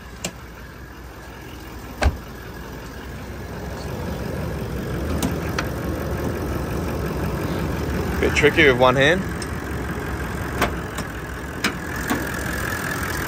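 A 2020 Toyota Landcruiser 76 Series GXL idles with a steady, low engine hum while someone talks near the engine bay, with a few sharp clicks and handling noises.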